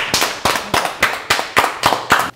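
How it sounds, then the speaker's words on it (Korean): Several people clap in sharp, evenly spaced bursts, eight loud, crisp claps in a steady rhythm close to the microphone, with no talking over them. "박수!"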